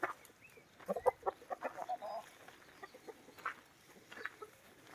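A rooster and hens give soft, irregular clucks and short calls at close range, fairly quiet, scattered across the few seconds with no talking.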